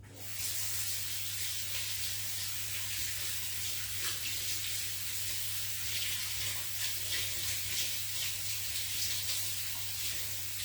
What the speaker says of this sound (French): j'ai juste passé à l'eau chaude et toute la pâte est partie